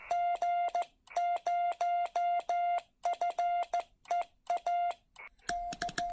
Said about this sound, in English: let's start sending CQ